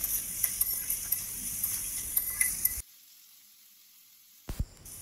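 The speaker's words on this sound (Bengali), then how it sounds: "তারপর কিন্তু চিচিঙ্গাগুলোকে বেশ অনেকক্ষণ টাইম ধরে ভাজতে হবে।" Snake gourd frying with ginger and garlic, a bright steady sizzle with light spatula clicks that cuts off into near silence, followed by a couple of faint metallic knocks.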